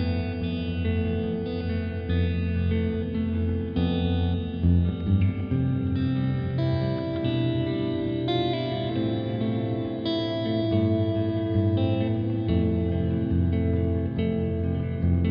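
A finger-picked guitar runs through a T2 reverb pedal set to a big cathedral sound, with notes blooming into a thick, continuous reverb wash that stays steady throughout.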